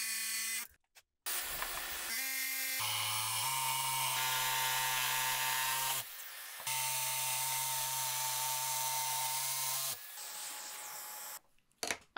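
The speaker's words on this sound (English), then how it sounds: "I'll use my jigsaw to remove all the waste, making sure to stay inside the lines." A jigsaw cuts out the waste between drilled holes in a desk workpiece, running in several bursts of steady, close motor whine with a buzzing blade, separated by brief pauses.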